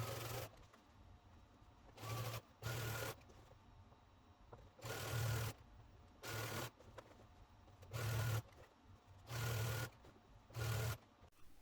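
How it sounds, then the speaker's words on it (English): A sewing machine top stitches the facing of a tote bag in eight short, even bursts of close, steady stitching, separated by brief pauses, with no talking. "So you're really just top stitching it down."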